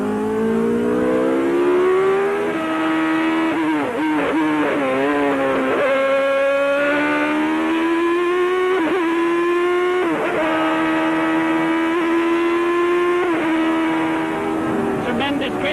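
A Benetton Formula One car driven on a track, its engine loud and close, screaming up through the revs with repeated gearshift dips and rises, someone talking over it throughout.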